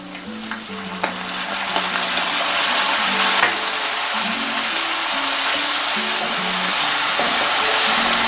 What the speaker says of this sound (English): Now we're going to add the 1/4 cup of the W sauce.